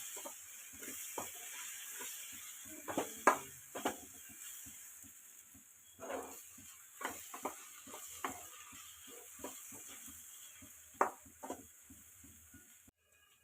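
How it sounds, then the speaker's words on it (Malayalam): Chicken pieces fry in a pan with masala, Kashmiri chili powder and chili powder, giving a soft, steady sizzle broken by irregular scraping and clacking as the mixture is stirred, close but fairly quiet. "ഇപ്പോൾ നമ്മുടെ ചിക്കൻ നന്നായി ഫ്രൈ ആയി വന്നിട്ടുണ്ട്"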